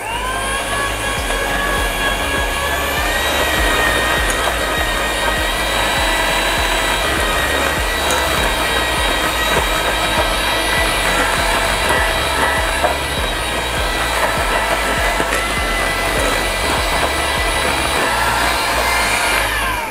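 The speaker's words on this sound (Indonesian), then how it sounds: "kemudian di mixer lagi" An electric hand mixer beats chocolate cake batter for a chocolate cake, running as a loud, steady motor whine for the full stretch without pause and with no voices over it.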